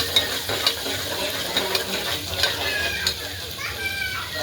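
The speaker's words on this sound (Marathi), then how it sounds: "तेल तापलं आहे. मी टाकत आहे कांदा आणि तमालपत्र." Chopped onion and bay leaf sizzle in hot oil while mutton curry is being made. The frying hiss is steady, with a few sharp clinks of stirring along the way.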